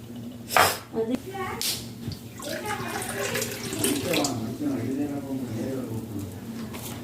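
Cold water is poured from a cup while making a jelly dessert, a close splashing trickle that builds and runs steadily for several seconds while a person talks over it.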